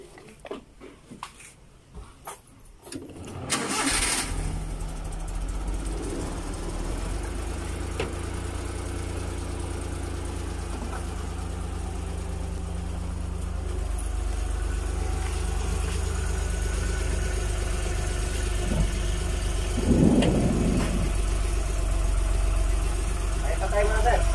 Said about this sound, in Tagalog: Andar rin natin mga makina